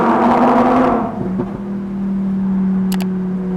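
A Lamborghini Huracán EVO Spyder V10 engine pulls hard at first, then its note drops away into a steady, close drone as the car cruises on.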